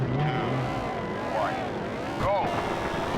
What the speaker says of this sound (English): Engine sound is still awful.